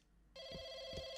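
Telephone ring in a video game, a steady bright electronic tone that starts suddenly after near silence and holds loud and unbroken, with faint low thumps underneath.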